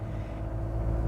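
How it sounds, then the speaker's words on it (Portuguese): A Ram Rampage Laramie 4x4 with a 2.2 turbo diesel engine pulls away under acceleration, giving a steady, loud low rumble that swells slightly toward the end, with no talk over it. "você ouve o barulho do carro, parece que ele está enchendo o motor para reagir, e aí ele vai."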